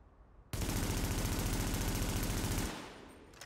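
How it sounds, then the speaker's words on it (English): A gun in the video game The Division fires one sustained, loud burst of rapid automatic test shots lasting about two seconds, followed by a short decaying tail. "we're gonna do another test shot with the same gun"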